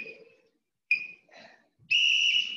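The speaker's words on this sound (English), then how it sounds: "So when that whistle goes," Workout timer whistle blowing in three loud shrill blasts: a short one, a second after a pause, then a longer sustained blast to finish.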